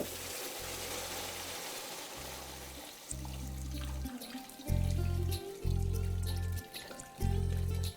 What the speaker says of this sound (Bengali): তখন এখানে দিয়ে দিন পরিমাণ মতো জল